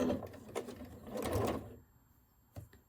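A sewing machine runs a short burst of stitches on quilt fabric, a close, quick mechanical whir lasting about a second and a half, then stopping, followed by one faint click.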